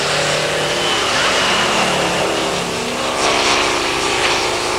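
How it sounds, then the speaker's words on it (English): A Perlini truck's 500 bhp Detroit two-stroke V8 howls near its maximum revs, a loud, sustained and close engine roar with slight surges as it pushes hard along a forest rally stage. "500 brake horsepower Detroit 2-stroke V8 engine, howling away right up to its maximum revs"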